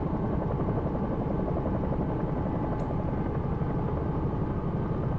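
Simulated Bell 222 helicopter rotor from the X-Plane 11 flight simulator, a continuous dense thudding drone with steady engine noise throughout.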